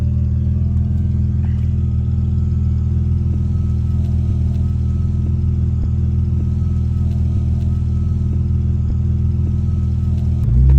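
A car on a grass drift field runs with a loud, steady engine drone close by, the pitch holding fairly even before a sudden surge of revs right at the end.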